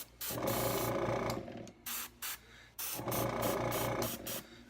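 A spray gun sprays black paint, hissing loud and steady in two long bursts with a few short puffs between them as the nozzle is adjusted.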